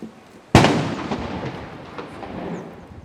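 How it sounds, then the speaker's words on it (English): A single sharp cannon blast from a 21-gun salute at a state welcome ceremony for a visiting Malaysian Prime Minister, booming loud and close, then a long rumbling decay that fades over several seconds. "a special guard of honour and a 21-gun salute was accorded to the visiting Premier"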